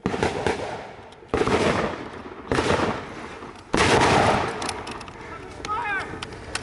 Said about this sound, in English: Give that medic some covering fire